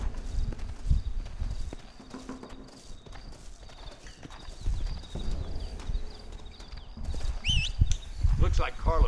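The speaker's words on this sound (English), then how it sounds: "Looks like Carlos left us some horses." Horse hooves clip-clop in a desert Mexico shooter video game, in uneven bursts of steps. Scattered game sounds and what may be voices accompany the hooves.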